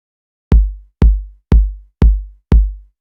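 Five evenly spaced kick drum hits, about half a second apart, each a punchy low thump followed by a short hissy noise tail.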